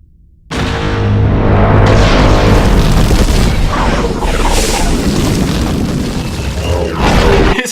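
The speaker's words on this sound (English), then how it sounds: "there's the sound effect that the seismic charge makes" Seismic charge from Star Wars: Attack of the Clones: a huge, sudden booming blast that kicks in sharply and then roars and rumbles for several seconds with crackling, shimmering tails, loud and alone.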